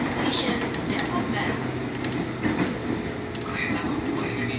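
An Indonesian KRL Commuter Line train rumbles along with a steady low roar and faint rhythmic clatter of wheels, heard from inside the carriage.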